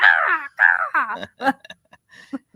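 Crows caw repeatedly from close by in a quiet, peaceful rural setting, with a run of loud harsh calls followed by scattered shorter caws.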